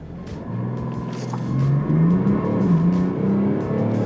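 A 2018 Mercedes-Benz CLS 400d 4Matic diesel launching off the line, its engine rising from a deep rumble to a strong, climbing growl as it accelerates, loud and close with no talking.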